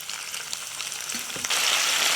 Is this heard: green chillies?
yes